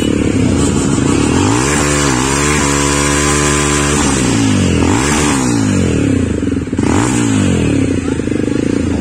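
Jawa motorcycle engine heard up close while riding through a forest on a hill route, a loud steady thrum that rises and falls in pitch as the rider accelerates and eases off, with wind rushing across the microphone.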